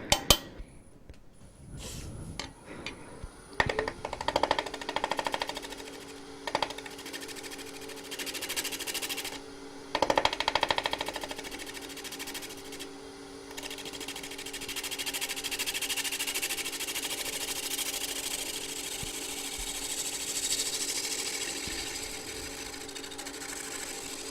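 A lathe motor hums steadily throughout while a dry abrasive scratching rises and falls against a spinning end-grain wooden bowl being sanded, with a few clicks and knocks at the start.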